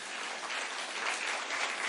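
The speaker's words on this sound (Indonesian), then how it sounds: "Tepuk tangan bagi Tuhan kita." Church congregation clapping together during a sermon, a dense steady burst of applause that fills the room for a couple of seconds.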